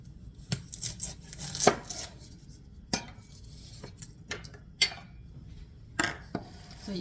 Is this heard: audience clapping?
no